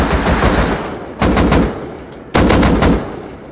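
Loud automatic bursts from an AK rifle in the survival game Rust, two sharp volleys after a sustained roar, close and dominant with no speech.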